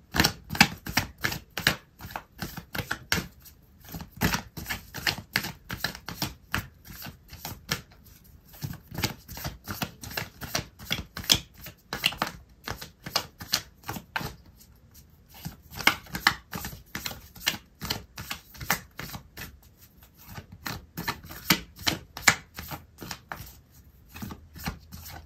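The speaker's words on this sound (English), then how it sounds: "I'm going to pull out an oracle card for you" Oracle cards being shuffled and pulled by hand, a long run of rapid papery riffles, flicks and taps in irregular bursts, close and fairly loud, with no voice.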